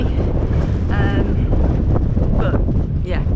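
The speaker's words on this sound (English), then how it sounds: "It's a tad windy" Strong wind buffets the microphone in a constant, loud roar with rushing gusts on the open hilltop of Moel Findeg in the Clwydian Range, Wales, with no talking.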